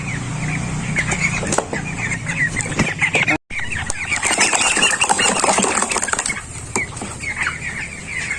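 Broiler chickens cluck, squawk and flap their wings loudly and continuously close by during weighing on a farm, with a brief gap partway through.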